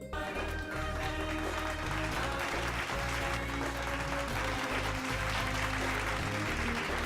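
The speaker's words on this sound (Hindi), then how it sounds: "जोरदार तालियां इनके लिए।" A studio audience on a television talk show applauds a guest, a banking-industry lifetime achievement award winner, with steady, sustained clapping blended with music playing underneath throughout.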